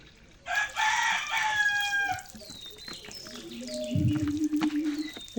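Chickens kept in a small fenced home enclosure: a rooster crows loudly and close by, then hens cluck and call softly against a quiet yard background.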